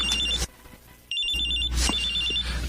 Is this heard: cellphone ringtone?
yes